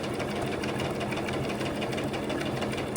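A sewing machine runs a straight stitch, sewing ribbon onto tulle with a steady, close, continuous mechanical whir and rapid needle chatter throughout.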